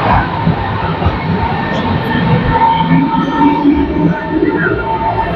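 A Berlin S-Bahn train rolls past on a city line, a loud steady rumble with rattling wheels and faint squeals, close by and continuous.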